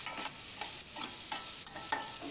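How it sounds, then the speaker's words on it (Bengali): Spices and grated ginger fry in oil in a pan while being stirred constantly, producing a close, rhythmic series of scraping spatula strokes over a soft sizzle, with no talking. "মশলাটাকে অনবরত নেড়ে নেড়ে ভালো করে কষিয়ে নিতে হবে।"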